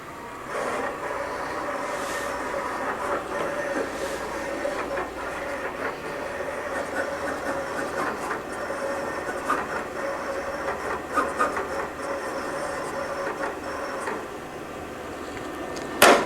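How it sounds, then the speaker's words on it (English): A vinyl cutter slices heat transfer vinyl scrap, its carriage whirring and clicking in quick, uneven bursts over a steady motor hum, moderately close and continuous without talk. "send it over to my cutter, and it'll cut right on my scrap piece of material"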